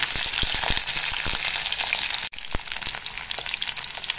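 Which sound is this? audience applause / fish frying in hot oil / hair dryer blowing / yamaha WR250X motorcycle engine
fish frying in hot oil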